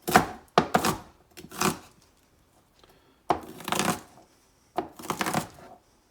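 A knife chops through green beans on a cutting board in several quick bursts of rapid crisp cuts, with short pauses between the bursts and no talking.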